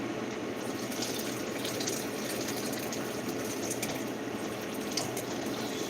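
Boiling water streams into a French press, a close, steady pouring hiss with faint bubbling and gurgling that runs throughout, with no talking.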